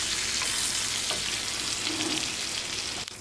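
Salmon fillet frying in a pan, turning golden: a steady, loud broadband sizzle fills the whole stretch, with a brief clink near the end and no talk.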